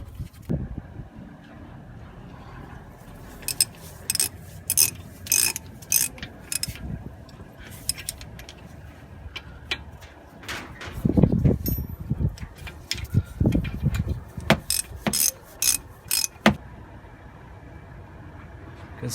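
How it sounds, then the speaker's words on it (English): Mechanical ratcheting and clanking from tightening bolts while refitting brake parts on a 2017 Mercedes-Benz C220, a series of sharp clicks and metallic knocks with rattly bursts throughout. "going to put them bolts on and tie them up."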